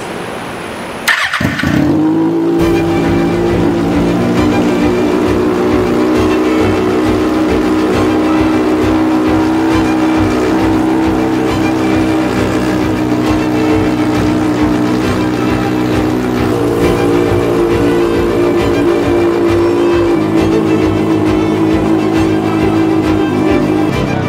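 A motorcycle engine just brought back to life after repair starts up and settles into a steady, loud, close idle with a rumbling throb that holds for the rest of the clip, with no talking.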